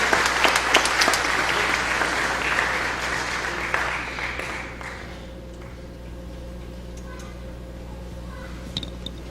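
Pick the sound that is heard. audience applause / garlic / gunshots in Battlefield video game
audience applause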